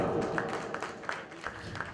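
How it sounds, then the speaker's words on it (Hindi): Audience applause at a live patriotic music evening in a Delhi public library hall, a moderate wash of clapping with a few sharper claps standing out, fairly steady across the short stretch. "जोरदार ताली सबके लिए"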